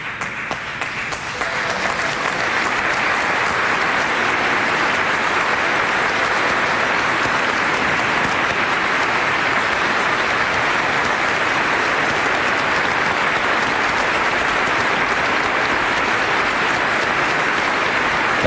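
Audience applause for Dr. Graham at a large gathering, a loud, dense and steady roar of clapping that holds at the same level throughout with no voices over it.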